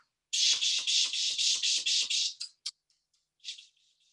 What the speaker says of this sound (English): You start to hear buzzing and chipping in the bushes near you.